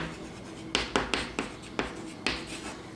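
Math equations being written on a board during a university mathematics lecture: a series of six or so distinct, crisp strokes at irregular intervals, close and clear over a quiet room, with no speech.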